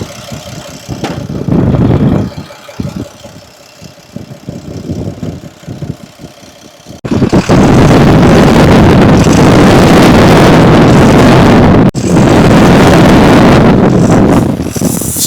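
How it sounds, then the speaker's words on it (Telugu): A Tata BS6 phase 2 truck engine runs close by, a low rumbling idle that rises into a loud, dense roar when revved, holding steady with a brief break before roaring again. "ఒకసారి అయితే వినిపిస్తాను చూడండి, Tata BS6 phase 2 engine sound."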